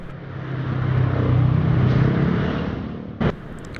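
Cars and motorbikes in congested traffic, an engine rumble that builds and fades as a vehicle passes close by, followed by a brief sharp burst.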